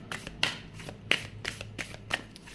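A deck of tarot-style cards being shuffled by hand, with repeated riffling bursts at an uneven rhythm, close and fairly quiet, with no talking.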